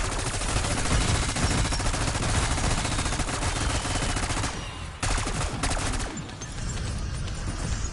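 Rapid automatic gunfire clears a room in Black Ops 6 Zombies, a video game, with loud sustained bursts for several seconds, a brief pause, then more shots fading down at the end.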